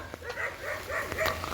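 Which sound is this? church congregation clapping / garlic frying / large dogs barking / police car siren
large dogs barking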